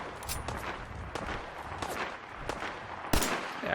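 Gunfire in the video game Fallout 4, a rapid series of loud shots crackling irregularly over a dense, noisy battle backdrop, ending with one especially sharp, close blast.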